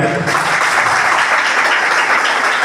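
An audience at a freshers' party at a group of institutions breaks into applause: steady, loud, dense clapping from many hands, continuous throughout with no speech over it.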